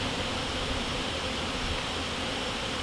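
Honey bees at an open top bar hive buzz in a steady, dense, unbroken drone, close and fairly loud with no voices.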